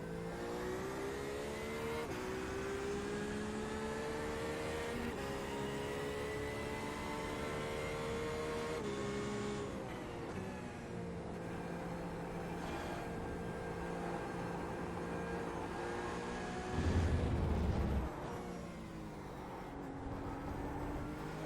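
Lamborghini race car at Interlagos in a racing game, its engine droning steadily and loud throughout, pitch rising and falling through gear changes, with a brief heavier burst near the end.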